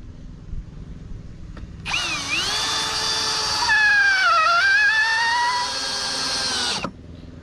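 A Parkside cordless impact driver from Lidl drives a 100 mm screw in one continuous run of about five seconds, its pitch dipping under load midway and then steadying before it stops abruptly.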